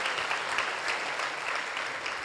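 Temple Sunday program audience applauding the cooks in a steady, even burst of many hands clapping, moderately loud and continuous throughout.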